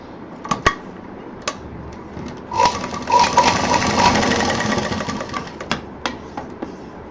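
A sewing machine stitches cloth in a steady rapid whirring run of a few seconds, framed by sharp clicks and handling knocks before and after.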